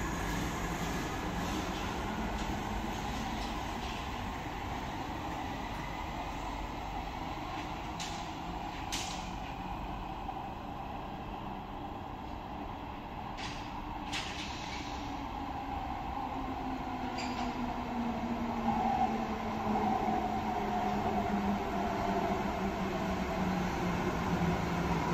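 A Cologne-Bonn Stadtbahn tram on line 16 pulls away from a station, a steady rumbling roll with rising motor whine and faint squeals, continuous and fairly loud throughout.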